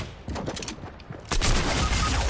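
Gunfire in the Fortnite Chapter 2 video game: rapid bursts of close shots, sparse at first and then a denser, louder volley, with no voices.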